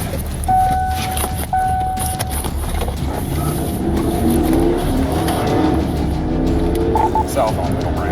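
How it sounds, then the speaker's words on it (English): A car engine revs and pulls away loud and close during a police chase, with a steady motor drone and a few sharp tonal blips over it, and voices talking throughout. "Just revving his engine here."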